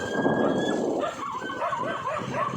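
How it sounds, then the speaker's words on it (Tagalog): Several dogs bark and yip close by, with some whimpering mixed in, overlapping continuously against an outdoor background. "Daming aso."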